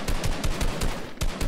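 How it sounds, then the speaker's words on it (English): Gunfire in the video game Fortnite comes as a rapid, loud string of evenly spaced shots, about five per second, with no talking over it. "Somebody's got a shotgun."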